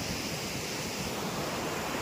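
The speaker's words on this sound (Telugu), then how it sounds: "ఇక్కడైతే చాలా డీప్లోకి అయితే వాటర్ అయితే ఫ్లో అవుతుంది" Water at Kuntala waterfall pours down into a deep drop, giving a dense, even roar of rushing water that fills the short stretch with no break and no voices.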